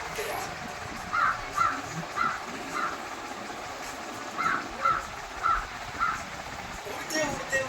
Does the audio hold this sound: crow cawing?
yes